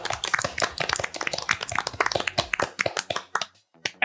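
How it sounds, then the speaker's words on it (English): A studio audience at a televised debate show claps and applauds for the debating team, a dense, steady patter of many hands that fades near the end. "Give them a huge round of applause."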